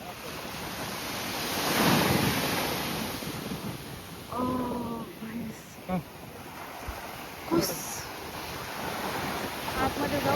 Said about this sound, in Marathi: इथे हिंदी महासागर आणि अरबी समुद्र जिथे एकत्र भेटतात ना